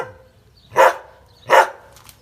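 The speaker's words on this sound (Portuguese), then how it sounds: "O cachorro tá ali latindo." A dog barks twice at a gate, two loud close single barks about three-quarters of a second apart, with quiet between them.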